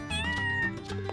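A kitten meowing in a child's craft and dollhouse setting, a single drawn-out, wavering meow close up and clear, with no talking.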